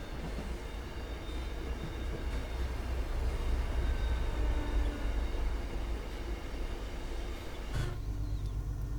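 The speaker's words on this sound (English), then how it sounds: "Hey, look, another inbound train." A passing MBTA commuter rail train in Train Sim World rumbles steadily with low, continuous rolling and wheel noise, holding loud for most of the stretch before the sound shifts abruptly near the end.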